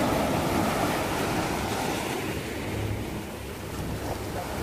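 Surf washes onto a beach at Demang Harjo, Tegal, as a continuous close rumbling wash with wind buffeting the microphone, no talk heard.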